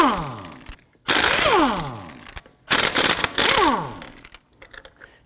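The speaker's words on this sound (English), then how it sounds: "Using a 19mm socket, we're going to loosen and remove our lug nuts." A 19mm socket on an impact wrench spins lug nuts off a Volvo XC90 wheel in three loud, close bursts of rattling, whirring hammering, each winding down in pitch, with short pauses between.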